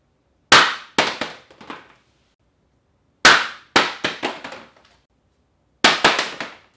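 A plastic foam cannon for a pressure washer is dropped on the ground: sharp hollow plastic clattering impacts, three separate drops each followed by a few quick bounces and rattles, close and loud with silence between.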